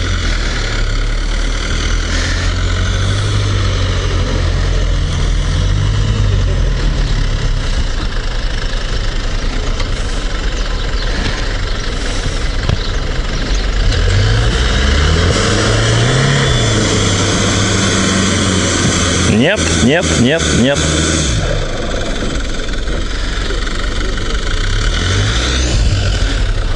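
Mitsubishi Delica engine revving and labouring on sand dunes, a loud steady motor drone with rising and falling pitch throughout, briefly broken by a clattering burst near the end; a voice speaks briefly.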